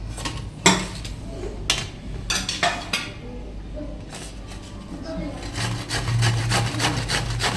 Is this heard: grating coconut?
yes